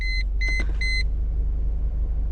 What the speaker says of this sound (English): But hear that engine purr. Look at the idle too.